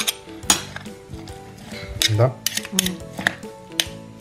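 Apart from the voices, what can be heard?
stirring salad with two spoons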